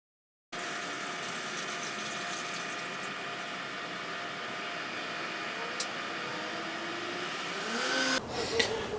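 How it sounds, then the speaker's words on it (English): Beer draining from a fermenter into a keg during a homebrew transfer, a steady continuous liquid flow with a faint pump-like hum held evenly for about eight seconds, ending in a brief louder gush. "So while I wait for the fermenter to drain into the keg"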